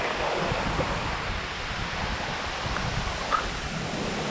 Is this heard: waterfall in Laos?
yes